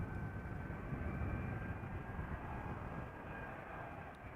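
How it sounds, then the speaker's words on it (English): A KLM Boeing 777-200ER arriving from Panama City comes in to land at Amsterdam Schiphol, its engines giving a distant, steady low rumble with a faint whine on top and no talking. "approaching is KLM flight 758. It is a 777-200 ER arriving from Panama City"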